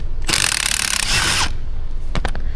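A ratchet spins a seat bolt loose inside a Ford Escape, a loud, close, rapid clicking burst lasting over a second, followed by a few short metallic knocks.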